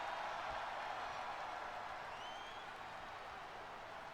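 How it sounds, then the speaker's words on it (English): Arena crowd at a women's wrestling match, a continuous, fairly distant roar of cheering and applause that holds steady throughout. "And this arena crowd starting to pop."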